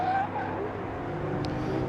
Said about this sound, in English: They hit the brakes.